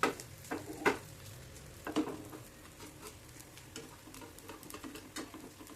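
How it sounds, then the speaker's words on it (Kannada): Potato paneer tikka deep frying in oil, a soft continuous sizzle and bubbling with a few sharper clinks and stirring scrapes early on, moderately quiet with no speech. "ಒಂದೊಂದಾಗಿ ಡೀಪ್ ಫ್ರೈ ಮಾಡೋಣ."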